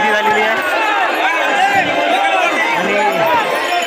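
A dense crowd fills a village street during the Shankarpur bull Pola festival, a steady loud babble of many overlapping voices with shouts rising and falling throughout.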